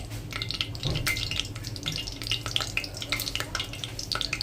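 Oil heats and crackles in a pan before curry leaves go in for a mutton curry tempering, giving a steady close sizzle with scattered pops and light stirring scrapes, no talking.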